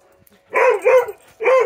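A dog playing with other dogs on a muddy afternoon gives a quick pair of loud, close barks, then a short pause and one more bark.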